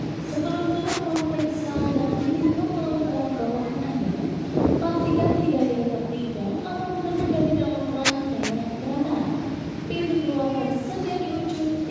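Passenger train of the Kamandaka economy service leaving Semarang Poncol station, a continuous rumble of carriages on the rails with squealing and clanking overtones, and a voice talking over the noise.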